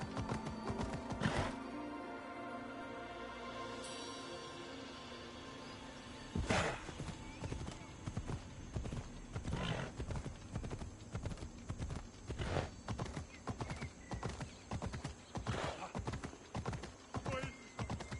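A ridden horse galloping in Assassin's Creed Odyssey, rapid rhythmic hoofbeats that start after a short pause with a neigh, then drive on steadily alongside game sounds.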